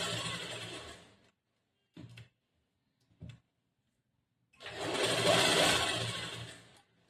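A sewing machine stitches a back-hook blouse during a tailoring class. A long whirring run is followed by two brief taps of the needle and then another sustained close stitching burst, with no talking.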